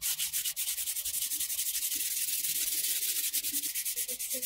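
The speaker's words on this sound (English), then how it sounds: "we're going to use the 120 grit sandpaper, and we're just going to start taking off this old dead layer of wood here." Boat teakwood being hand-sanded with 120 grit sandpaper to remove an old weathered layer, a close steady rhythmic rasp of rapid back-and-forth strokes.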